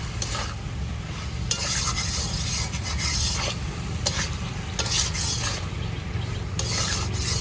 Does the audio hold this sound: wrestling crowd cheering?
no